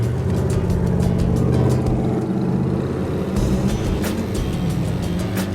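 Nitrous-equipped muscle truck on slick tires accelerating hard with the rev limiter raised, a loud, steady engine roar with a low rumble and a brief dip and surge in pitch partway through, no voices.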